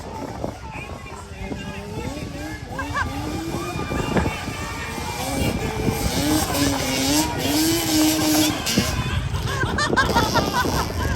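ATV and side-by-side race engines revving and whining at a Turn n Burn mud race, rising and falling in pitch at a distance beneath excited shouting voices and crowd noise.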